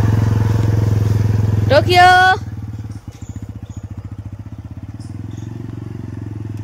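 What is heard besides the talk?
motorcycle with a dog riding on it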